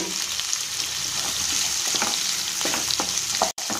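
Raw mango pieces frying in oil with white sesame seeds and asafoetida for a quick pickle, a close, steady crackling sizzle with stirring scrapes, then a sharp knock near the end.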